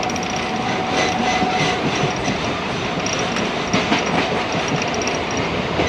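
An almost empty passenger train rolling along the rails in Hooghly, making a loud, steady rumble with rhythmic clickety-clack and faint wheel squeal throughout, heard from inside the carriage without talking.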